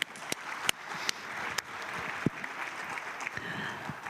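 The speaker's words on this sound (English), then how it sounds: "Please give them a round of applause." Audience applause for a panel at a UNIDO General Conference session, a moderate, fairly sparse patter of clapping with a few sharper claps standing out, steady throughout.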